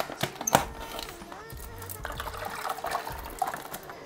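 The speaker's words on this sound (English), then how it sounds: "Next, we'll get the fish into the bucket." Water sloshes and trickles as a fish is moved into a bucket during aquarium work, with soft splashes and pouring sounds beneath a faint background hum, close by and fairly quiet.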